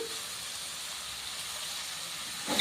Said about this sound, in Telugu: ఈ ఆయిల్లో ఇవి బాగా వేగాలి